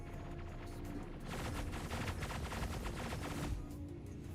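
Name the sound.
gunfire while flying in the video game Star Citizen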